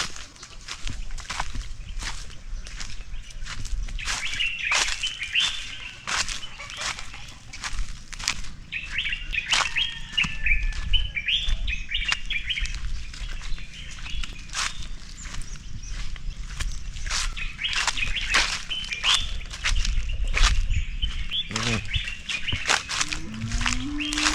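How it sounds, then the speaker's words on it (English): Birds chirp and tweet steadily throughout a morning walk among mango trees in Casamance, with sharp rustles and flutters breaking in close by against a busy outdoor background. "Hear all of the birds."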